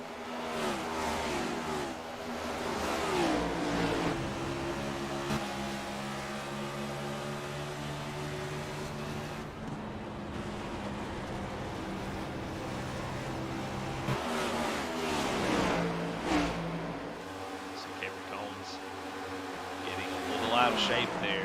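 Race cars in an ORRL Send It Cup Series race at Dover International Speedway, with engines droning and shifting pitch as they pass, rising and falling in loudness, under commentary voices.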